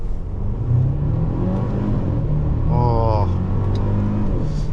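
A 2022 Mercedes-Benz GLC 300 SUV engine revs up in first gear and pulls forward steadily beneath continuous conversation inside the cabin, with a rising whine partway through.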